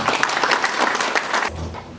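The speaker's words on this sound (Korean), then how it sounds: "힘찬 박수 모시겠습니다" Applause from the audience at a farmers' and experts' forum on land-use plans for reclaimed land, a brief burst of clapping that cuts off abruptly, leaving a low hum.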